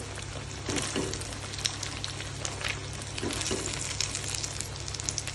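Fish fries in hot oil, a soft steady sizzle with scattered crackles and pops, fairly quiet and close, no voices.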